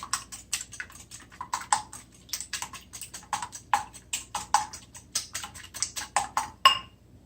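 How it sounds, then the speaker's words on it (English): Two eggs are whisked in a bowl for a mushroom, spinach and feta omelet, giving a steady run of quick, close taps and clinks with no talking. "I've taken 2 eggs, and I'm just going to whisk them up"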